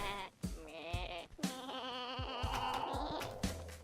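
Sheep in a video game bleat repeatedly, several wavering cries close together, loud and clear with short pauses between calls.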